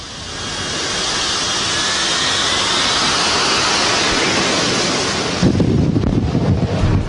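A Sea Harrier jet takes off from a small aircraft carrier deck with a huge roaring rush that swells and holds, loud and broadband, then turns to gusty buffeting near the end.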